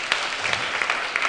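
An assembly audience claps for the Ola Youth, brisk scattered hand claps close and fairly loud in a short burst.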